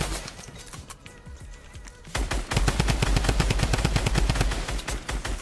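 Rapid automatic gunfire in a competitive video game starts after a quieter stretch and then rattles on in dense, steady bursts.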